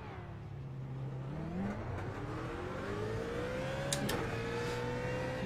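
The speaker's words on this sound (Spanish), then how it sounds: "veo que viene mucho coche, voy a esperar un poquito aquí" Several racing cars sweep past in a sim racing game, engines rising and falling in pitch as they approach and pass, a steady stream of nearby traffic with no talk.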